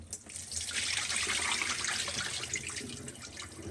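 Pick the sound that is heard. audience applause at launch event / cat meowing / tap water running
tap water running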